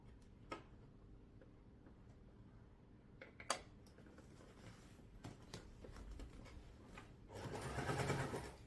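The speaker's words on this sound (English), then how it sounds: "So I'm just going to go around and stitch all the way around, just a small seam allowance, maybe about 1/4 of an inch." Sewing machine stitching around a seam of a fabric storage cube bag, a faint steady mechanical hum with scattered ticks that swells into a louder, faster run of stitching near the end.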